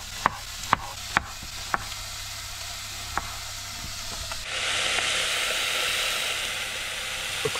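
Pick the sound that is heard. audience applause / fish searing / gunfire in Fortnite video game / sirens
fish searing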